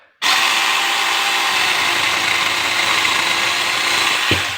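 A cordless mini chainsaw starts up abruptly and cuts through a wet Christmas tree trunk, a loud continuous buzzing whine held steady for several seconds before suddenly stopping.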